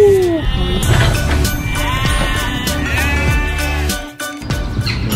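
Sheep bleating at a farm, several long wavering bleats close by and loud, one after another, with a brief pause near the end.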